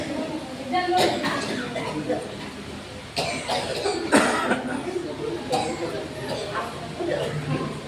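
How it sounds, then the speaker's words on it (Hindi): Several coughs and throat clearings from a congregation at a satsang spiritual discourse, scattered over a steady murmur of voices and room noise. "सबका गला साफ हो जाए।"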